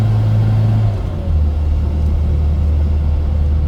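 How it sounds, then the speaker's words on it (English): A carburettor-converted SPI Mini Cooper pulls smoothly on a test drive, its steady low engine drone rising slightly in pitch as it accelerates, close and continuous with no talking. "Smooth acceleration, very pleasant car to drive."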